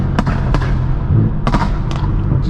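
Straight-piped BMW M4 F82 spitting flames in daylight, its exhaust crackling with a few loud sharp pops spaced over a steady engine rumble, close and harsh.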